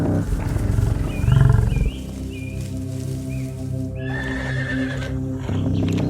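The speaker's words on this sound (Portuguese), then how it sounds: "A manada de zebras pastava distraída" Zebra herd on the African savanna, with a loud whinny and hoof clatter near the start followed by sustained calls and a bed of wild-animal ambience; no talk.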